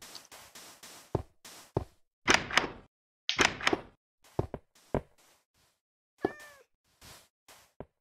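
A cat meows repeatedly in the video game Minecraft in short, separate calls with quiet gaps between, mixed with a few dull thunks and knocks, no talking.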